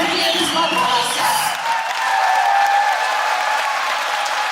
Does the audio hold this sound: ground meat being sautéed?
no